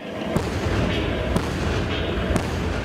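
A continuous booming roar with three sharp tank and ship cannon shots at roughly one-second intervals, heavy and resonant against rumbling background noise.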